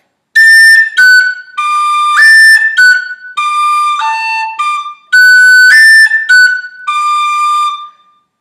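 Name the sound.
whistle playing the tune Kitty's Rambles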